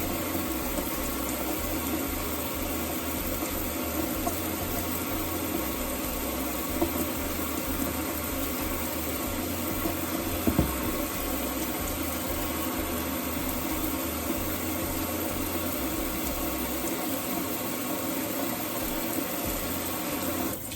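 Tap water runs steadily over raw oxtails being rinsed in a kitchen sink, a constant close splashing rush with a low hum underneath, lasting throughout without any talk.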